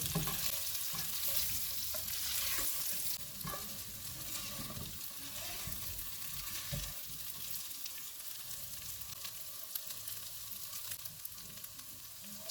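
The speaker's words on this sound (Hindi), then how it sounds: "इनको 4 से 5 मिनट तक भूनेंगे।" Boiled, peeled baby potatoes fry in a pan with a soft, steady sizzle and crackle, the hiss louder at first and then settling into a quieter, continuous frying sound with occasional stirring.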